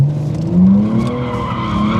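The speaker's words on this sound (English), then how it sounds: "it was interesting to attempt to drift" A car drifting on a track gives a loud, sustained tire squeal that rises and falls over an engine drone. The skid sounds close and continuous.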